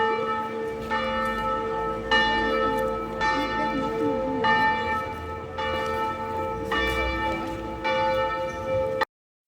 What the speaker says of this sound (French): on arrive pile quand les cloches sonnent